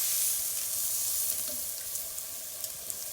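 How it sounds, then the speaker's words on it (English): Tri tip searing in a hot pan over medium-high heat, a continuous bright sizzle with a few small pops and crackles, close and steady. "now we're going to flip and sear the other side"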